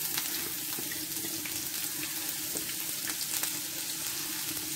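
Onion sautés in coconut oil in a flat pan, giving a steady close sizzle and crackle with no talking.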